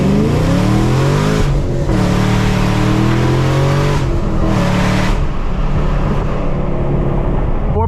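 Camaro ZL1 running E85 blend launches hard with wheelspin, the loud V8 revving up in rising sweeps, cutting out briefly between gear changes, then climbing again, close and dominant with no voices.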